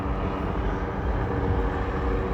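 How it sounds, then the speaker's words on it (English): A helicopter flying overhead gives a steady, broad engine rumble that holds at a moderate level throughout, with no voices. "Let's wait for that helicopter."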